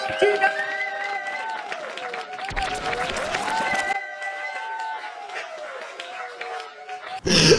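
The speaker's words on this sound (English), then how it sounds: "So start clapping your hands. Start cheering for Tom Keegan." An audience clapping and cheering as a comedy guest comes on, heard as a burst of loud applause and whoops that rises and falls over the stretch alongside music tones.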